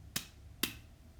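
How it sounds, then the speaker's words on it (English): Two sharp hand claps marking eighth notes in a first-grade music lesson, evenly spaced about half a second apart, close and crisp, then silence. "Each of the note heads is one clap, so it sounds like this."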